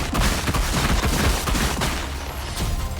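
Crystal Barrage attack from a video game: a dense, loud, continuous flurry of rapid crackling impacts and bursts lasting several seconds, alone.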